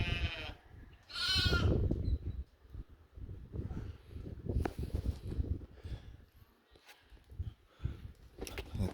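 Goats bleat loudly nearby on a farm in the Bahamas, a long wavering cry followed by scattered shorter calls over rustling and outdoor shuffling.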